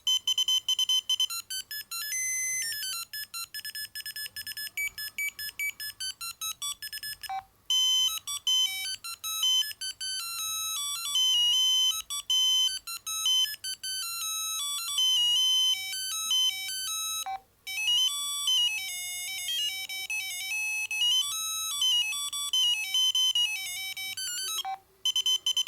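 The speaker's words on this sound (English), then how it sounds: "Yep, that's all the ringtones." A Zapp Z110 mobile phone plays its ringtones one after another, loud electronic beeping melodies with short pauses between tunes and no voices.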